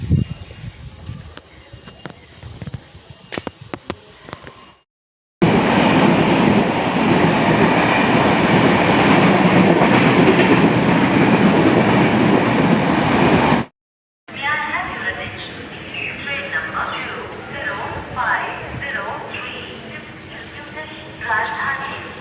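The Rajdhani Express rumbles and roars loudly through Kokrajhar station, with rattling wagons and screeching wheels, followed by a muffled hum with voices in the background.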